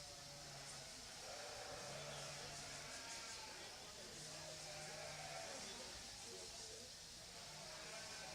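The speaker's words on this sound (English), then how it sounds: "Great group of sheep." Sheep bleat at a livestock show pavilion during a ewe lamb class, several calls repeating across the clip over a steady, noisy hall background, with an announcer's voice heard faintly.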